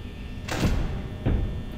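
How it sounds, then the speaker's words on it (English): Security doors in Five Nights at Freddy's slide open in two quick mechanical whooshes with low thuds, close and loud, about three-quarters of a second apart. "I'm just opening both my doors."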